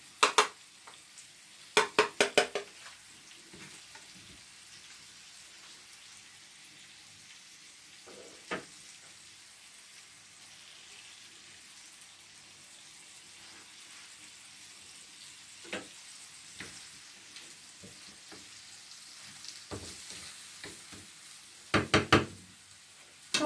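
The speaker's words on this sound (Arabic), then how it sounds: "صافي الدجاج ديالنا هو تشحر" Chicken sears quietly in a pan for a Moroccan tagine, a faint steady sizzle broken by sharp knocks and clatters of utensils against the cookware at irregular intervals.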